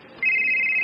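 A mobile phone starts ringing for an incoming call, a sudden steady electronic tone that cuts in after a quiet moment and holds, close and clear.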